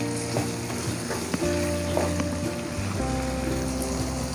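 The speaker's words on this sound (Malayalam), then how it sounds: "ഇതൊന്ന് നന്നായിട്ട് എല്ലാം കൂടി മിക്സ് ചെയ്ത് ഒന്ന് വാട്ടിയെടുക്കാം." Tomatoes sizzle in hot oil as they are stirred into a Kerala-style pepper crab roast masala, a steady close frying hiss with scraping spoon strokes throughout.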